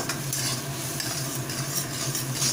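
Ground mustard paste and turmeric sizzle steadily in a hot pan for a kachchi hilsa dish, with soft scraping and stirring noises running through the constant frying hiss.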